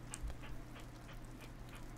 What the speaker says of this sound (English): I locked my doggy in there with the chickies